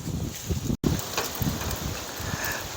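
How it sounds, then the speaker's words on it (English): Wind blows outdoors, buffeting the microphone with uneven low rumbling gusts and broadband rushing over a couple of seconds. "Once the wind goes down"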